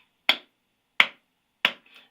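Three sharp hand claps spaced roughly evenly apart, loud and close, each with a short decaying tail, fired as a timing test for Bluetooth speakers; a faint softer echo follows the last clap.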